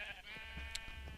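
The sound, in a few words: sheep bleating in Minecraft video game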